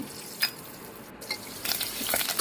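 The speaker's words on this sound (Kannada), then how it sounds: "ಚೆನ್ನಾಗಿ ಫ್ರೈ ಮಾಡಬೇಕು ಒಂದೆರಡು ನಿಮಿಷ ಫ್ರೈ ಮಾಡಬೇಕು" Garlic, curry leaves and ginger-garlic paste fry in a pan with a soft sizzle, punctuated by a few scraping stirs that grow busier toward the end; no one speaks.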